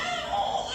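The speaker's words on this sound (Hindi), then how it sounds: "बच्चा बिलख रहा है, रो रहा है," A young child wails in a day care toilet, a brief, sustained high-pitched crying tone heard at moderate level.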